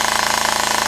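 A Classic Army M16 airsoft gun with an M110 spring and a worn cutoff lever fires on full auto from a strong LiPo battery, a loud, close, rapid buzzing burst of evenly spaced shots.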